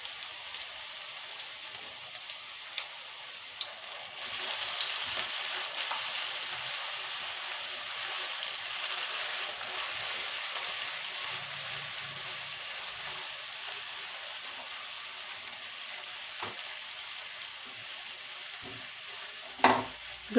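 Finely chopped onion sautés over medium gas in a pan for leftover-roti chowmein, a continuous bright hiss with a few utensil taps and scrapes, close and unaccompanied by speech.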